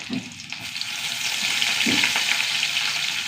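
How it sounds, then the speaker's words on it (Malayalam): Urad dal fries in hot coconut oil with a dense, close, continuous sizzle and crackle that holds steady throughout. "വെളിച്ചെണ്ണ നന്നായി ചൂടാവട്ടെ ഒരു ടീസ്പൂൺ ഉഴുന്ന് വെളുപ്പിട്ട് കൊടുക്കട്ടെ"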